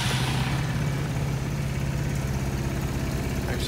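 A vehicle with 4,126 miles on it runs at a steady idle, a loud, close, low rumbling drone with an even pulse that holds unchanged throughout, with no voices.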